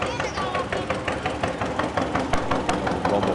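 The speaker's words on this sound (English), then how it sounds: "Really unique sound on that John Deere" A John Deere tractor engine running in a county fair parade, a close, rhythmic chugging putt-putt with evenly spaced beats, steady and fairly loud, with crowd voices underneath.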